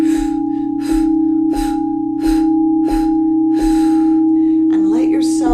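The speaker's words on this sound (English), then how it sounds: "And breathe out, releasing." Slow, deep exhalations during a meditation session, several long breathy releases in a steady rhythm over a sustained low drone, close to the microphone, ending in a rougher gasping breath.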